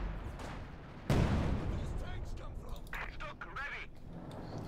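German artillery fire in the World War II strategy game Company of Heroes 2 lands as a sudden loud blast about a second in, then rumbles and fades under continuing battle noise and faint game effects.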